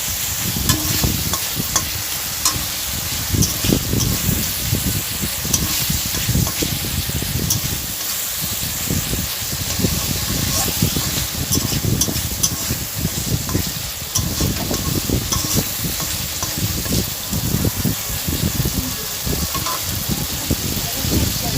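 Ridge gourd and potato curry with fried potato pieces, stirred with a metal spatula in a pan, gives steady scraping and stirring under a constant sizzle, close and fairly loud, running throughout.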